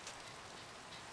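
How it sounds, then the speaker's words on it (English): Steady rain pours down inside Minecraft, a dense, even hiss of falling drops that fills the short stretch without pause. "Now it's raining."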